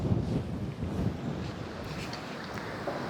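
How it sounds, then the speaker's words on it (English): Wind gusts across an outdoor viewpoint high above Naples, a steady low roaring buffet close to the microphone with no voices over it. "It's a bit windy, sorry about that."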